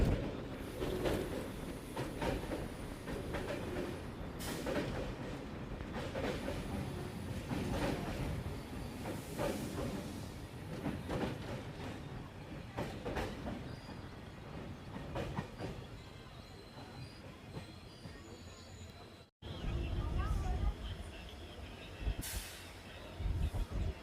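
A passenger train running from Bengaluru to Mangaluru rolls into Bantwal railway station beside the Netravati river: a long, steady rumble and wheel clatter heard from aboard, with a short break near the end.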